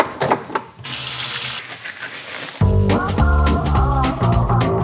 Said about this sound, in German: Hände waschen.